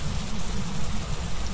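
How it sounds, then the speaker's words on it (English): Steady rain in the horror video game Phasmophobia, an even wash of falling drops that holds constant throughout, with no voices over it. "Oh my god, it's raining."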